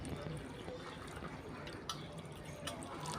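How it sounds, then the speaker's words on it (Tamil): Water is poured during washing, a low continuous splashing and trickling with a few drips, faint and steady, while speech sounds faintly in the background. "இப்போ வந்து தண்ணி ஊற்ற போகிறோம்"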